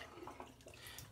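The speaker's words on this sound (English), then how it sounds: "get the water out of the scuttle" Water poured out of a shaving scuttle before a double-edge safety razor shave, a soft continuous splashing trickle heard up close and fairly quiet, with no talking.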